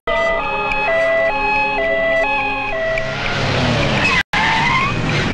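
An ambulance in a minister's convoy sounds its wailing siren loudly and continuously, the tone stepping up and down in a regular pattern before broadband road and engine noise takes over.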